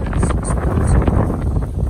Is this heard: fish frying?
no